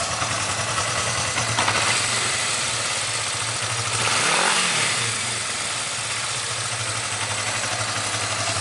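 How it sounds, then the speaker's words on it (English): A Kawasaki 305 motorcycle runs steadily close by, its exhaust note swelling briefly in a short rev near the middle before settling back to a constant idle-like drone, no voices present. "Check out the exhaust."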